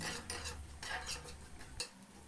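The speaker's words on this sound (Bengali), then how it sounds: "কিছু সময় খুন্তি দিয়ে ভালোভাবে নেড়ে নিচ্ছি" A spatula stirs dried chillies and ginger in a pan as the tempering fries, giving repeated scraping strokes close up with faint sizzling underneath, in a steady rhythm with no talk.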